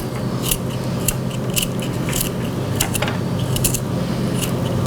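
Small, sharp cutting clicks as garlic is chopped into small pieces for an Italian potato salad, coming in irregular bursts over a low kitchen hum.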